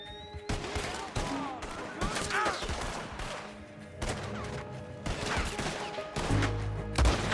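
Pistol gunfire in a Red Dead Redemption 2 shootout, repeated sharp shots and bursts in an irregular rhythm throughout, close and loud, with voices in the mix.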